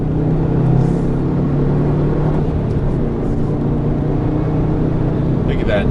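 A Subaru WRX fitted with a PERRIN rear differential and subframe lockdown kit accelerates, its engine holding a loud, steady in-cabin drone with rumbling road noise throughout.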